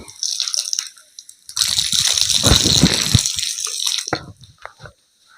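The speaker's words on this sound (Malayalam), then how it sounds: "മുഖത്തിൻ്റെ എല്ലാ ഭാഗവും വെള്ളം എത്തുന്ന രൂപത്തിൽ ശരിക്കും അരച്ച് കഴുകണം" Water splashing and gushing as a face is washed three times during wudu ablution, loud bursts of close splashing with drips between, no talking.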